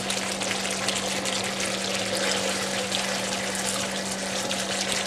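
Water poured into a pan of red Thai chicken curry simmering on medium-low heat, a steady continuous hiss and sizzle running evenly throughout without pause.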